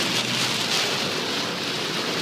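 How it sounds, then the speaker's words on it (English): Heavy rain storm on a highway, a dense, steady roar of downpour drumming continuously and loudly with no pauses. "it's coming down the rain so hard, you can barely see that far in front of you."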